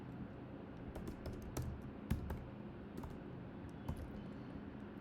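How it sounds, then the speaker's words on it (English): Quiet, irregular keystrokes on a computer keyboard as code is typed for a Flutter app, soft clicks with a few sharper taps over faint room noise and no voices. "I'm just typing out the code."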